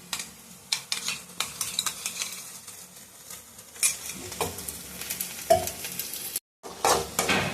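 Ginger garlic paste frying in a pan for mutton thokku, soft sizzling broken by repeated spoon scrapes and clinks against the pan, with a brief silent gap near the end.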